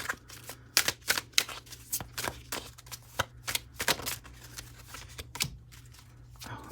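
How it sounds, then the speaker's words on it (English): Tarot cards shuffled and drawn during a relationship reading, a steady run of crisp riffling flicks and slaps close up, with no talking. "Let's pull the last three cards"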